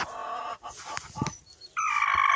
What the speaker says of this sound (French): Elle fait tout le temps ça quand elle pond.